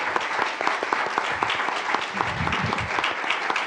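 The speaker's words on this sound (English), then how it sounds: "So I do want to give you guys a round of applause." Room full of people at a school board meeting clapping for transportation department employees, a dense, steady round of applause with a few voices faintly mixed in, lasting several seconds.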